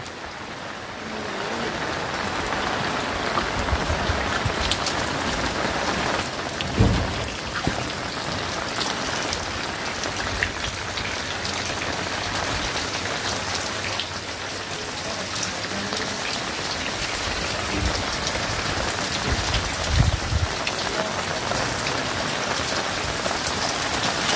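Rain falls steadily and fairly heavily, a constant wash of drops with a couple of louder thumps partway through; no one speaks.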